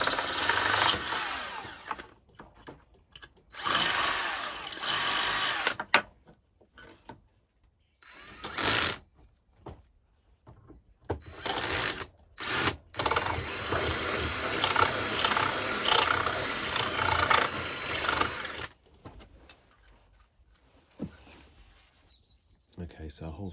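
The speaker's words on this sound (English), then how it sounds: "in one of the boxes I am going to drill a hole from the bottom" A power drill bores holes through a box for a CAT6 ethernet cable in bursts of loud whining, separated by short pauses, with a person talking in between.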